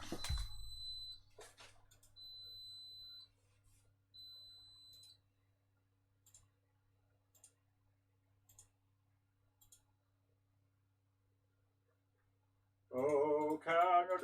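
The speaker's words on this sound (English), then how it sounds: "I'm going to turn off that bloody beeping" Electronic beeps sound at a workbench during circuit design: a few steady high tones of about a second each, followed by faint sparse clicks, with someone speaking near the end.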